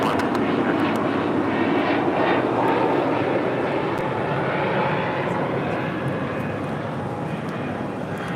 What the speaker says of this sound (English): 266 taking off to Philadelphia on an A320 Neo